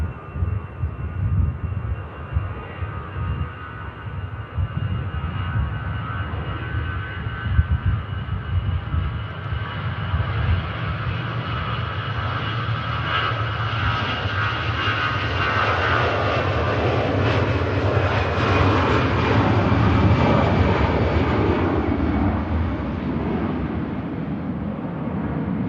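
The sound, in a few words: Aer Lingus Airbus A320 taking off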